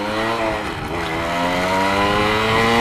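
A Yamaha RZX motorcycle engine pulls hard at high revs, a loud, steady, rising harmonic whine held close throughout without a break.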